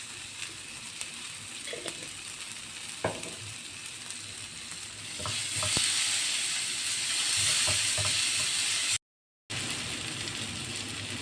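Masala for masala egg sautéing in a pan, a steady close sizzle and fry with occasional stirring scrapes, growing louder partway through and broken by a brief gap.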